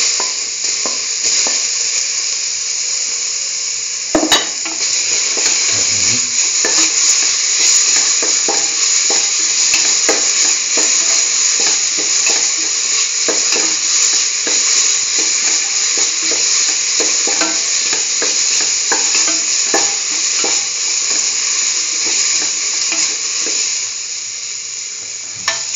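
Tomato pieces sauté in a pan for a mustard broccoli potato stew, a steady loud sizzle running throughout with occasional stirring scrapes and utensil knocks, no voices.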